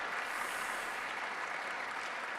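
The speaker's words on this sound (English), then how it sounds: "please give our Aston Martin drivers a round of applause" A crowd applauds with steady, even clapping that holds throughout, fairly faint and distant, at the Aston Martin 2026 F1 car launch.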